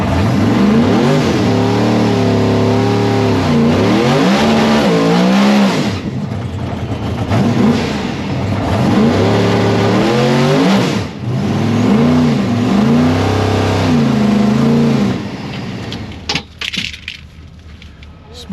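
A PDRA Super Street drag race car on slicks launches with a loud, sustained engine roar whose pitch surges and falls repeatedly as the tires spin, then cuts off abruptly near the end.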